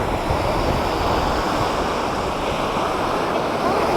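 Ocean waves wash steadily onto a Savannah, Georgia beach, with a continuous close roar of surf and wind buffeting the microphone throughout.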